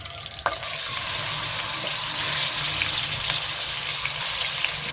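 Half a kilo of mutton sizzles in hot ghee for a mutton korma, a steady, loud, close frying hiss that carries on without a break and has a brief clatter near the start.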